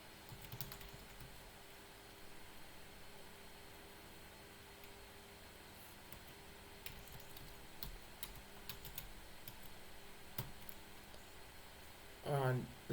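Typing on a computer keyboard while entering a bookmark label: scattered, fairly quiet key clicks in irregular bursts over a steady background hiss, with a louder thump near the end.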